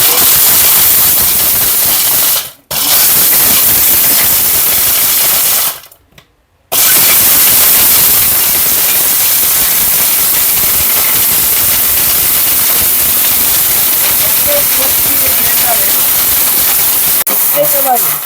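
A Miyako kitchen blender works on its pulse setting: loud, dense whirring bursts that cut out abruptly twice before resuming, with a steady roar through the rest.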